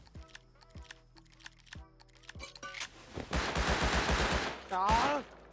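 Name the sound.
gunfire in the video game Rust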